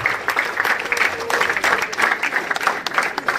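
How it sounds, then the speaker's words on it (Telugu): A crowd of students at a government junior college claps loudly and steadily, a dense rush of applause from many hands, close and sustained throughout. "వారికి ఒకసారి గట్టిగా చప్పట్లతో అభినందన తెలియవలసిందిగా కోరుతున్నా"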